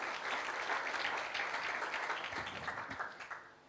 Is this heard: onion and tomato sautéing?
no